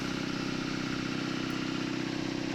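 A compressor engine in an aircraft hangar runs at a low, steady idle, a loud, even mechanical drone with a rapid regular pulse throughout.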